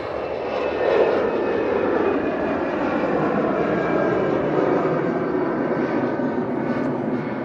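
An Easyjet airliner's jet engines roar loudly and steadily at Manchester Airport, a continuous broadband rumble and whine that holds for the whole stretch.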